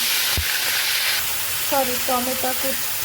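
Grated onion, garlic and ginger hit hot oil with a sharp crackle near the start, then settle into a steady close sizzle, with some brief tonal sounds layered over it near the end.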